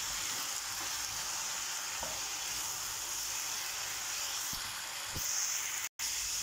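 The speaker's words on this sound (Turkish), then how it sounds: "Kabağımızı tabii ki ara ara karıştırıyoruz." Zucchini sizzles steadily in an uncovered pan, a dense, even frying hiss throughout, broken by a few faint stirring scrapes and one brief dropout near the end.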